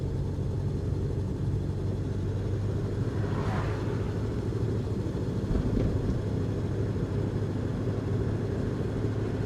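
A 1960s Austin Cambridge A60 with a three-speed gearbox cruises along, a steady low engine drone and road rumble heard from inside the car, with a faint whoosh passing midway.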